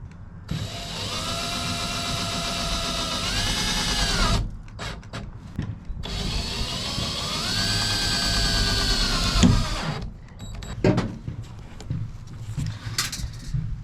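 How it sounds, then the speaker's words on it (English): A power drill drives sheet metal screws into mounting brackets in two long, loud whirring runs, each climbing in pitch as the screw seats, followed by brief clicks and handling noises. "I need to use some sheet metal screws to install these brackets."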